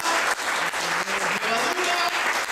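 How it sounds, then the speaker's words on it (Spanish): A congregation at a Spanish-language church service claps loudly and steadily for the Lord, the sustained applause mixed with faint voices throughout. "Le damos un aplauso fuerte al Señor."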